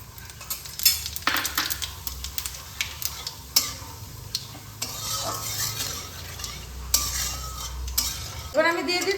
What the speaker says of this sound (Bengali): কোপ্তা ভাজা তেলে আমি গ্রেভিটা বানিয়ে নেব। তার জন্য ফোড়নে দিচ্ছি 2টো তেজপাতা, 2টো শুকনো লঙ্কা আর সাদা জিরে।